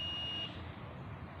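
A multimeter's continuity beep sounds while a probe is held on a drill machine cable, a single steady tone of about half a second that cuts off, leaving quiet room hum.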